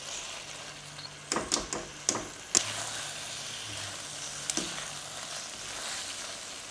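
Boiled pasta in red sauce with a splash of pasta water sizzling as it reheats in a pan, with a quiet frying hiss and several sharp clinks and scrapes of a utensil stirring, no talking.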